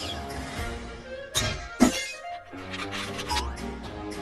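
A cartoon glass cage shatters in a sharp, loud crash with a bright tinkle of breaking glass, set against a soft background soundtrack.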